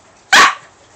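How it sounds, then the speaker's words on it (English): A dog gives a single short, sharp yip, loud and close, with nothing else around it. "That's not a bark, that's a yip."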